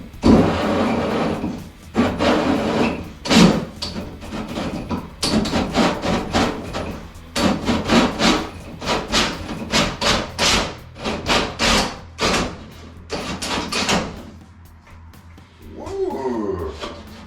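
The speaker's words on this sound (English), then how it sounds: "this is where you want to hold your drill very firm" Power drill boring a hole through a ceiling for a 4-inch Halo LED recessed downlight, heard close as a series of loud, rough grinding bursts that stop and start, ending in a brief clatter of falling debris.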